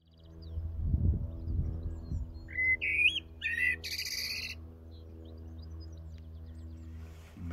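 At a carp fishery, ducks call in a few short, high chirping bursts in the middle, over a quiet low hum and a brief rumble near the start.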